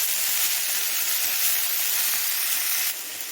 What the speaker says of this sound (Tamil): இது கொஞ்சம் எண்ணெயில் கொஞ்சம் நல்லா வதங்கட்டும்